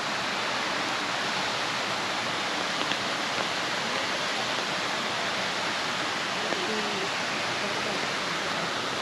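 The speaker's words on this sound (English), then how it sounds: "the water just keeps meandering down" Water flowing and meandering down near Uluru, a steady broadband rush like a stream or waterfall, continuous and fairly loud with no breaks.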